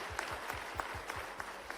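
An audience at a political speech in Bhopal claps steadily, producing a dense patter of applause with a few sharper individual claps standing out.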